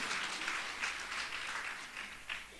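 A church congregation applauds during a worship service, giving a fairly faint but steady spread of many hands clapping, heard from a distance in the hall.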